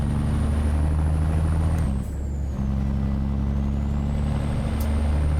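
A big diesel truck engine, an 855 Cummins in American Truck Simulator, drones steadily with a low, throbbing hum, briefly dipping before resuming its constant, close rumble.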